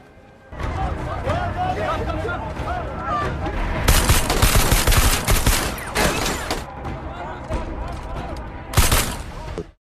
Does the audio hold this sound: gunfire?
yes